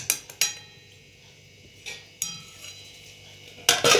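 A lid is set over a pot of dhokla batter, giving a few sharp metallic clinks and clatters spread across a few seconds in a quiet kitchen, with a final louder rattle at the end.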